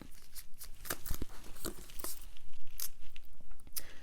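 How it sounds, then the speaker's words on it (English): Tarot cards are shuffled in a quick run of crisp, papery flicks and riffles, close and fairly faint, with no talking. "Let me shuffle more cards."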